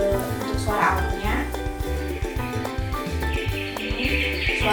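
A baby bouncer plays its electronic birdsong nature-sound mode, repeating chirps and tweets over a looping melodic backing, with a voice talking over it.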